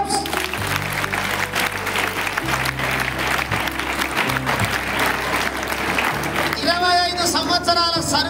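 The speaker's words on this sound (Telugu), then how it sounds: "కొట్టడి క్లాప్స్." Audience applause at a personality development program, sustained dense clapping from a large crowd with music underneath.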